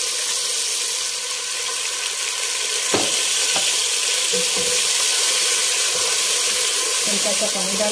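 Garlic, ginger and tomato sizzle steadily in hot oil in a pan with cumin for a spicy potato pulao, a constant loud frying hiss with a few brief clinks and stirring scrapes.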